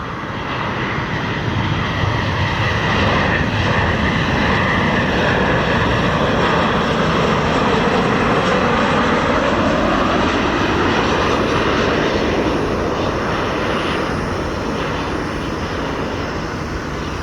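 An airliner inbound from Norfolk, Virginia roars loudly and continuously on its arrival at Chicago O'Hare, a broad engine rumble swelling slightly and then easing, no voices.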